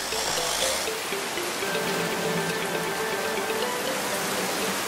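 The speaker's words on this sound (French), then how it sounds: "La pluie ne semble pas vouloir s'arrêter." Steady rain falls in a constant, even hiss with no break, and no voices are heard.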